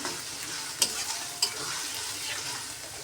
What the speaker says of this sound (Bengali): মশলাগুলোকে ভালোভাবে কষাবো এখন